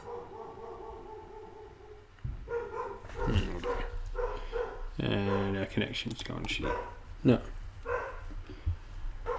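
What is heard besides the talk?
dog barking in the background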